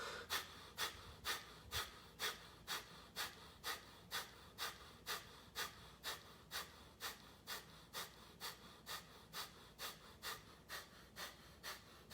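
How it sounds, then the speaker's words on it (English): Forceful exhales during breathwork, sharp rhythmic puffs of breath repeating about twice a second, close and steady for the whole stretch, with no talking. "Forceful exhales."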